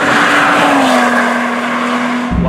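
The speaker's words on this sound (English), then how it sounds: "Wow, quick to rev, very quick to rev." A supercharged Lotus Evora engine revs hard, a loud sustained engine note with a steady pitch that sags slightly, then cuts off abruptly.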